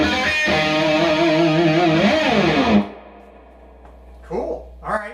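Electric guitar played through a Jose pedal into a Fender Deluxe Reverb amp, with a loud, distorted chord ringing out and bending before cutting off, followed by a short talking voice.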